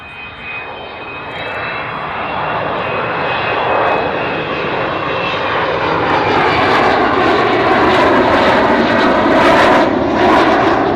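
An Avro Vulcan bomber's jet engines roar during a flypast, a loud sustained rumbling howl that swells steadily as the aircraft passes overhead.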